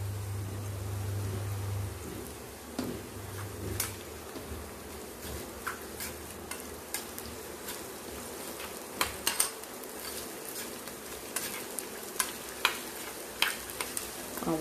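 Finely cut curry leaves and asafoetida sizzle in hot oil for a tadka. There is a soft continuous crackle with scattered clinks and scrapes of stirring, and no talk.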